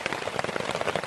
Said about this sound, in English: There's been no let-up at all with the rain. In fact, it's getting really heavy up here.